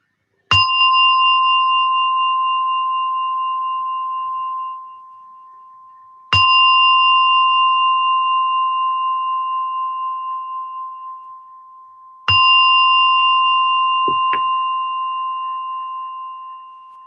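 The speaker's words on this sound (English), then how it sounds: "as you hear the gong slowly coming out from meditation." A meditation gong or bell struck three times at the close of a mindfulness session, each stroke ringing out clearly with a long, steady decay in an otherwise quiet room.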